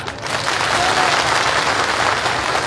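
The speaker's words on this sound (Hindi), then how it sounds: "बजाओ ताली।" A crowd at a political rally in Gijorra claps loudly and continuously, dense applause close by with no talk over it.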